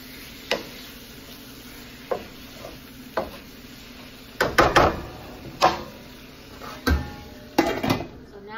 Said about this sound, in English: Gonna mix this up and let this simmer.